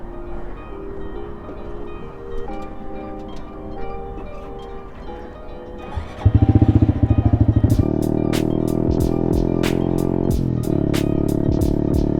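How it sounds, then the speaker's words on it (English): A Honda Grom 125 motorcycle engine idles in cold winter weather, a quiet steady putter that jumps to a loud, sharp rev partway through, then settles into a louder, rattly, rhythmic running note. "It's a Honda Grom 125."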